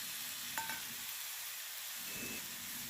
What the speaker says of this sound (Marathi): हे कोरडे मसाले तेलामध्ये चांगले परतून घ्यायचे आहेत